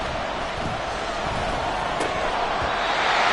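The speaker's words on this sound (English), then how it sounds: "Work to do here with a crowd at fever pitch." A football stadium crowd roars continuously at fever pitch, a dense, loud, wide wash of cheering that holds steady and builds slightly, with a faint thud or two beneath it.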